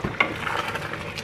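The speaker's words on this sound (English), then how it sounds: "Give your pan a stir" Brief scraping stir of homemade marmalade in a pan, a few quick gritty strokes of spoon against metal, close and moderately loud with no talking.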